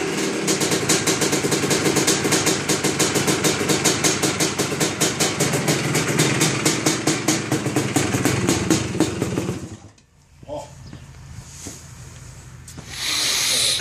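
Clay 250R dirt bike with the choke on, kick-started: a loud, close engine running with a fast, rough, even pulse, then cutting out abruptly near the end before a brief sputter and a return of noise.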